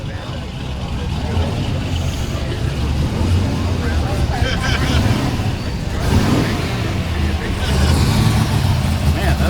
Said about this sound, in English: Man, that Belvedere sounds amazing